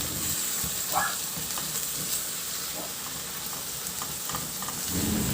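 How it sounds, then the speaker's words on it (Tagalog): Ground pork fries in a pan for an eggplant dish, with a steady sizzle running throughout and occasional utensil scrapes and stirring knocks close by, no voices. "Ihalo lang hanggang sa mag-iba na ang kulay o hanggang sa maglabas yan ng sarili niyang mantika."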